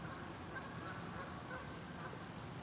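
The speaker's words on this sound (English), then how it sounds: "Solo goose coming in." A lone goose flies in to land on a river, giving faint, distant honks over a steady outdoor background hiss.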